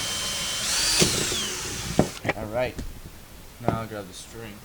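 A power drill whirs for about two seconds as it bores a hole, close and loud, then stops. A person speaks afterward.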